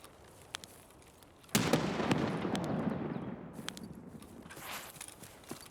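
Grenade blast in a video game: one sharp, loud burst at about a second and a half, followed by a crackling, decaying rumble and scattered small pops over quiet background.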